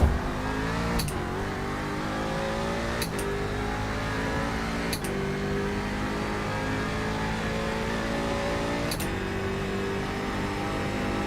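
Racing car engine held at full throttle in a driving game, a loud steady high-revving whine with four sharp gear-shift clicks spaced a few seconds apart, pitch climbing after each shift, continuous with no talk.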